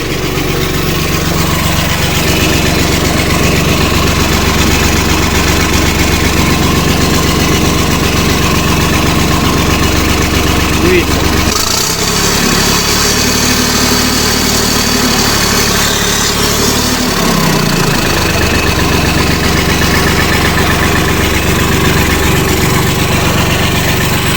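An engine idles steadily, driving a homemade ejector for a vacuum pumpkin seeder; the continuous low hum dips in tone midway, then returns to a constant drone, with no voices.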